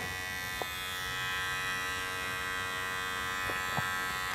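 A Manscaped Lawn Mower 4.0 electric body hair trimmer runs with a steady high-pitched buzzing hum, close and fairly quiet, with a couple of faint clicks.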